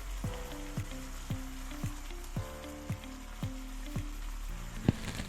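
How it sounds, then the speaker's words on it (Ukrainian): Chicken breast frying in a sauce of turmeric and nutmeg gives a soft, steady sizzle, with regular faint pops and ticks at roughly one-second intervals and no talk. "І ставимо цей соус під смажене м'ясо"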